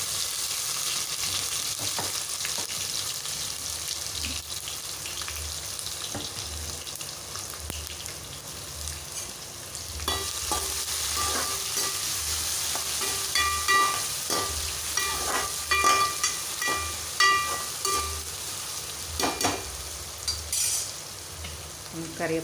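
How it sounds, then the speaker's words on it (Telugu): Crushed garlic paste sizzles and fries in a hot pan, a steady dense crackle with intermittent stirring scrapes and brighter spits in the second half, close and alone without talk. "మనం దంచి పెట్టుకున్న వెల్లుల్లి ముద్దను కూడా వేసేసుకుందాం అండి."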